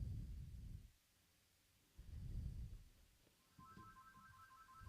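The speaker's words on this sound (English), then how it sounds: "The phone is ringing." A telephone rings in a studio during a racing talk show, a short electronic ring pattern that starts partway through, quiet and in the background after bursts of low rumbling sound.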